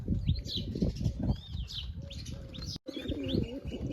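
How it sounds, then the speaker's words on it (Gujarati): Pigeons perched up on a roof give soft coos and chirps alongside repeated bursts of wing flapping, close and fairly loud, with a short gap of silence near the end. "કબૂતર તો બેઠા છે ઉપર છતમાંથી"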